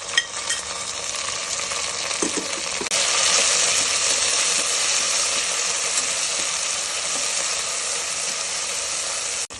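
Tomato and green chillies frying in a pan for Andhra-style prawn biryani, a steady loud sizzle with faint stirring clicks, growing a little louder partway through.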